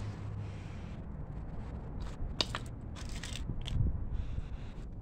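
A trowel works mortar for concrete seat supports, making gritty scraping and crunching strokes at close range, with irregular sharp scrapes coming in short bursts over a low background rumble.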